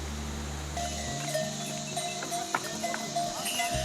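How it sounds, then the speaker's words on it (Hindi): Horses and mules wearing neck bells on a forested Himalayan trail on the Rudranath trek: hooves clop unevenly while small bells ring faintly and intermittently, fairly quiet and nearby, with a low hum at the start. "उस घने जंगल में घोड़े और खच्चरों के गले में लगी घंटियों की आवाज़ से माहौल जोशीला हो जाता था।"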